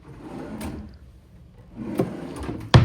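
A large drawer in a luxury Honolulu hotel room slides open and shut, with soft rolling scrapes and a sharp closing thump at the end, close and alone.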